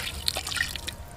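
Starchy water from boiled rice is splashed into a pot of chicken biryani, a short close burst of drips and liquid spatter over a low background hum.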